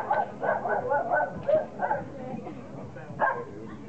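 Defense dog in ring-level bite training, barking and yelping in a series of short bursts at moderate distance while a handler talks over it.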